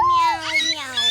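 A child imitates a cat's meow with the voice, a single drawn-out, whiny call that rises and falls, loud and close.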